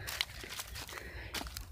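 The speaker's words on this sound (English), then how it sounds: "I hear somebody's footsteps." Footsteps of someone walking in the woods crunch on the ground in a brief run of several close, fairly faint steps.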